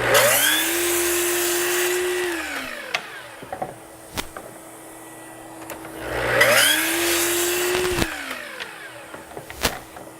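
A power saw rips through wood for a theatre flat in two long passes, each a rising whine that holds steady then winds down, with clatter of handling between cuts.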